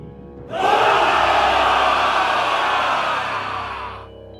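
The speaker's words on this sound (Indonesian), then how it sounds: "Gema sorakan pecah. Gema langkah ribuan iblis menghantam batu seperti dentuman drum perang." A huge crowd of thousands of demons roars and cheers, a dense, loud sustained swell that rises abruptly, holds steady, then fades out over a few seconds.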